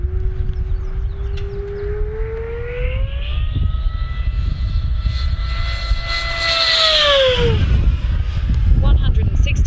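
An E-flite V1200 RC plane dives in a high-speed pass, its electric motor whine rising steadily in pitch then dropping sharply as it flies by, over wind rumble and a talking voice.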